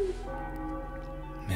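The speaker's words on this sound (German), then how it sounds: "Der Glockenmechanismus ist kaputt, doch die Glocke schlägt unermüdlich weiter" A church bell tolls in the Enigmatis adventure game, a single sustained ringing tone with long humming overtones fading out, followed by a brief low thud near the end; no talk over it.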